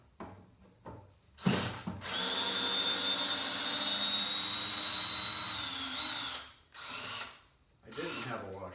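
Power drill running steadily for about four seconds as it drives screws into a saw table, with a short burst before and brief whirring bursts after, close and loud.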